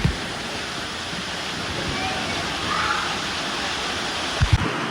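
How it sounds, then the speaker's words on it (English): A big waterfall at Typhoon Lagoon water park roars as a steady broadband rush of falling water, close and enveloping, with a few brief thumps near the end. "There's a big waterfall coming up."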